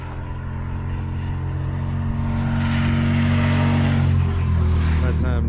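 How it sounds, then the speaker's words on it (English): Steady road traffic rolls past outdoors near a lake, a continuous loud engine and tire rumble that swells as vehicles go by, with a voice talking over it. "All kinds of traffic coming now."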